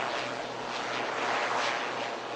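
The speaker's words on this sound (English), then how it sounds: "as the aircraft concludes its aerial display" Aircraft flying an aerial display at the Bengaluru air show 2025, a loud, steady roar of engine noise filling the air throughout with no break, as if passing fairly close overhead.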